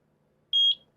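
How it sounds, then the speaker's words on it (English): One clear, high-pitched electronic sync beep from a eufy Security S100 wall light camera, short and steady, sounding alone against near silence. "Okay, we got a beep."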